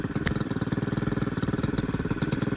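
A Stihl FS91R string trimmer engine idles and bogs slightly, a low, rapid, even chugging putter that stays steady and close throughout.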